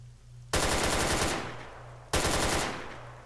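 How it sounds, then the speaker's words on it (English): Two long bursts of rapid automatic gunfire in the military shooter game Arma 3, each loud, sudden and trailing off into echo, separated by a brief pause. "Stop moving. And I'll stop shooting."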